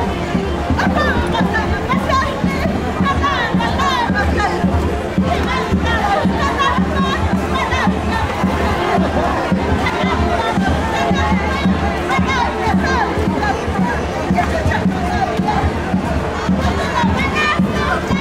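Large crowd cheering and shouting at a carnival festival competition in a Peruvian village, loud and continuous for the whole stretch with dense babble and whoops throughout.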